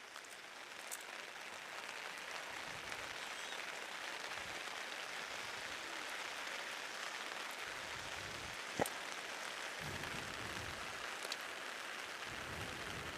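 Driving rain pours down during an outdoor soccer match, a constant broadband hiss that holds level the whole time, with only a couple of faint knocks and no voices.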